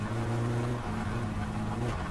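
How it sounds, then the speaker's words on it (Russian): A car engine in My Summer Car runs with a steady low drone and slight uneven coughing in its tone, idling close and continuous with no talk over it. "Как будто двигатель подкашливает немного."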